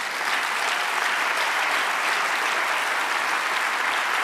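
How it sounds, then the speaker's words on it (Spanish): A church congregation applauds steadily and loudly throughout, a dense continuous wash of clapping with no pauses and no voices rising above it. "Dale otro aplauso al Señor."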